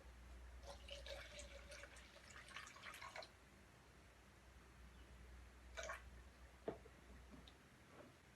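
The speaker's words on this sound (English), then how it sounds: "About a third of a cup of water." Water is poured into a cup while a salt and dish-detergent DNA extraction liquid is made, with faint splashing trickles and a few drips and small knocks at close range, quiet overall.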